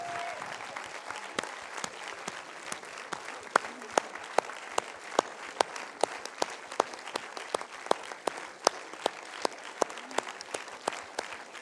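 Applause from an audience at an anniversary event at the Palace, a continuous dense wash of clapping with distinct sharp hand claps ringing out regularly throughout, steady and fairly close.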